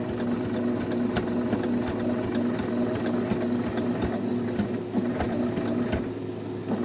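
A sewing machine stitches around a hand shape on a quilt-as-you-go potholder. It gives a steady, close mechanical hum with a fast, even clatter of the needle that runs without a break, with faint background noise and no speech.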